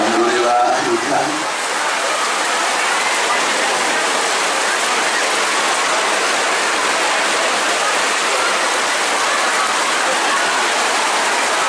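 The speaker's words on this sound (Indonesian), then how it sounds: "alhamdulillah hujan" Steady heavy rain pours down continuously, a dense broadband hiss that fills the whole clip at close range, with a brief voice at the very start.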